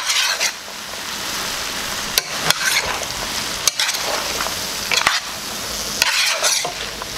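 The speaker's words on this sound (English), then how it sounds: "You really need to stir it here a lot to combine all the flavors." Trinidad pigtail pelau sizzling steadily in a pot while a utensil stirs it, with irregular scrapes and knocks against the pot cutting through the continuous frying hiss, close and fairly loud.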